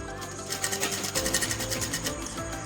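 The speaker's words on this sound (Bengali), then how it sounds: "এখানটাও 1 ইঞ্চি নিতে এবার এদিকে সেলাই করে নেব।" A domestic sewing machine stitches a pillowcase with a fast, steady rhythmic chatter of needle strokes, close and moderately loud, running continuously without speech.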